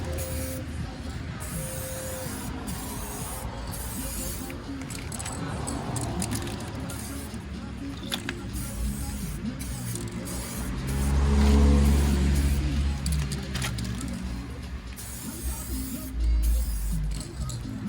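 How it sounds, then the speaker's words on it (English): Clear coat sprays in hissing bursts onto a Honda Accord fender under rust repair, with steady aerosol rushes rising and falling amid a faint background hum. "So now I just put the first coat, clear coat on it."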